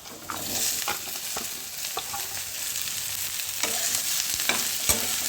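Green chillies, onion, curry leaves and bottle gourd pieces frying in a pan make a steady crackling sizzle, broken by repeated scraping stirs of a spatula, close and clear with no talk.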